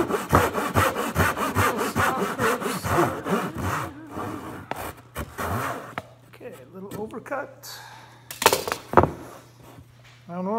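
Wood being hand-sawn for the cabover framing of a truck camper build, rapid rhythmic back-and-forth strokes that slow and pause, with a few close knocks and scrapes near the end.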